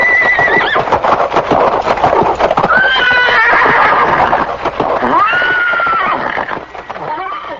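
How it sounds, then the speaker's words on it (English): A horse neighs loudly several times, shrill whinnies rising and falling, with hooves clopping close by. "he terrified everyone present with his loud neighing"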